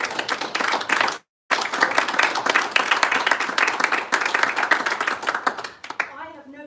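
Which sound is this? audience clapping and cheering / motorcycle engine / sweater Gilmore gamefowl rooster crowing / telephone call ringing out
audience clapping and cheering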